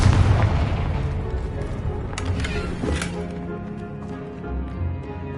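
A Confringo blast curse detonates in Hogwarts Legacy with a heavy, booming explosion that rumbles and decays over several seconds, with a few crackling bursts along the way.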